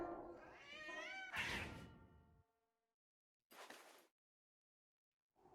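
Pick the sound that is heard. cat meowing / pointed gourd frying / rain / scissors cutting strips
cat meowing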